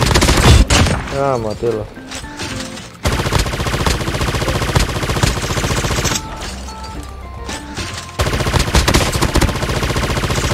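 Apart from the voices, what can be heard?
gunfire in a shooting video game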